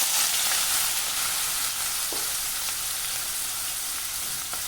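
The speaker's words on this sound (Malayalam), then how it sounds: "അപ്പം നമ്മുടെ എണ്ണ ചൂടായി. അതിലേക്ക് ഞാൻ ഈ ഇഞ്ചി അരിഞ്ഞു വെച്ചത് അങ്ങോട്ടിടുന്നു." Chopped ginger frying in hot oil for a Kerala ginger curry, a steady close sizzle holding at one level throughout, with a faint stirring scrape midway and no talking.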